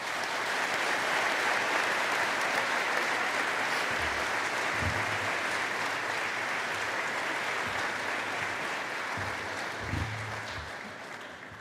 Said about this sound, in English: I would like to ask my fellow graduates to give a round of applause to all those that have supported us.